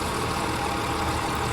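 Dornier Do J Wal flying boat engines idling steadily in Microsoft Flight Simulator, a loud, even, continuous low drone with no variation in rhythm and no talk over it.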